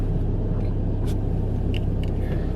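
Inside a moving car, a steady low engine and road rumble fills the cabin, constant and even with no voices, only a few faint clicks above it.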